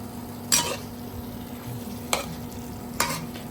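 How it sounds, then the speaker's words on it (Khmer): Beef and onions sizzle steadily in a frying pan while a utensil stirs and scrapes against the metal three times, sharp scrapes over the constant fry, with no talking. "រួចខ្ញុំកូរឲ្យសព្វបន្ទាប់ពីសាច់យើងនឹងខ្ទឹមបារាំងចូលជាតិគ្នាហើយ"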